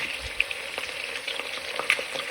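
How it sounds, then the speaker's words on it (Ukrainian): Bones sizzle and crackle in hot oil in a pan, a steady frying hiss with occasional sharp pops, close and alone. "Смажимо приблизно хвилин 4-5 ці кісточки і відставимо в сторону."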